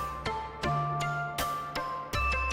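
Three synth layers combined on a Sonicware Liven Ambient Ø, producing sharp percussive clicks over sustained low tones and a few bright pitched notes in a quick repeating pattern, clear and alone.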